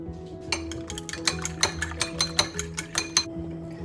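A whisk or fork beats raw eggs with a pinch of orange food colour, black pepper and salt in a bowl, giving a quick run of about a dozen sharp clinking taps, close and clear.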